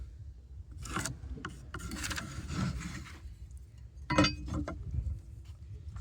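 Pencil scratching lines and X marks onto a wooden 2x4 top plate, a series of close, soft rasping strokes of varying length.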